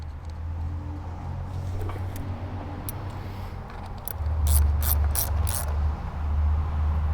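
A hand ratchet tightens the ignition coil bolt on a 2016 Kia Forte 5 with a 2.0L engine, ending in a quick run of close, crisp metallic clicks after a low engine-bay hum.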